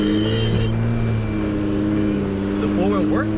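Off-road engine of a Jeep Gladiator or Geo Tracker revving steadily in a loud, close drone during a hill climb, with people talking over it.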